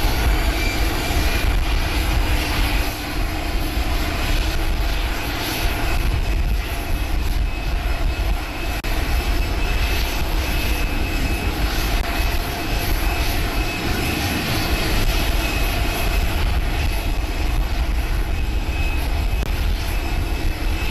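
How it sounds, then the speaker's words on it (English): Air Force One, a jet airliner, arriving in the Netherlands for a NATO summit, its engines sustaining a loud, steady broadband roar with a whining tone over a rumbling low end for the full stretch, nothing else distinct. "we now see President Trump stepping out of Air Force One as he's arriving in the Netherlands for the NATO summit"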